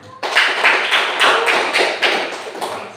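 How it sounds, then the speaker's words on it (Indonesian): A school class claps hands together for a classmate, several short, bright bursts of clapping in a loose rhythm, close and fairly loud, with no talk over them. "Tepuk tangan."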